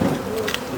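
Honey bees buzz at the hives as a frame is inspected, a close, dense drone with a wavering pitch that sounds alone for a brief moment, without talk.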